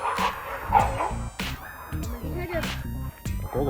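A dog barks angrily in several sharp, loud bursts close by, mixed in with a person talking indoors.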